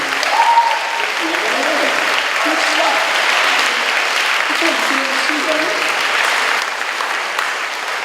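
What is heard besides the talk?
audience applause at a school band concert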